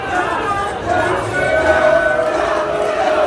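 Wrestling crowd in a theater venue at an event in Nashville, a steady roar of chatter and cheering from many people filling the space, with a commentator's voice over it.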